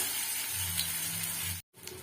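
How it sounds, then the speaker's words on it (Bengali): Sliced onion deep frying in very hot oil for a mutton curry gives a steady, close, crackling sizzle with soft bubbling, broken by a brief silent gap before the frying resumes. "পেঁয়াজটা আমার ভাজা হয়ে আসছে, একদম ভালো রকমই ভাজা হচ্ছে"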